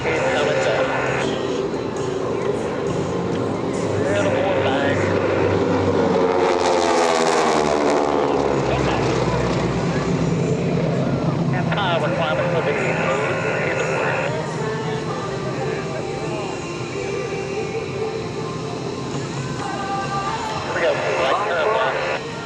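Titan Aerobatic Team airplanes flying overhead in formation at the 2025 Air Power Over Hampton Roads air show, a loud continuous engine roar that swells as they pass, with an announcer talking over it throughout.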